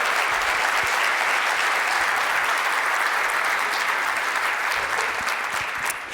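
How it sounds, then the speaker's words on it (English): Loud, dense applause fills a large industry trade show hall, a continuous roar of many hands clapping that holds steady before easing slightly near the end. "Can we give a round of applause for our new Japanese leadership?"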